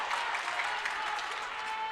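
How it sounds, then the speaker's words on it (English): A crowd at a women's Division III regional semifinal basketball game, Sussex vs Brookdale, applauds and cheers in a steady, dense wash of clapping that stays loud and continuous throughout, with no clear voices standing out. "Brookdale crowd getting into it now."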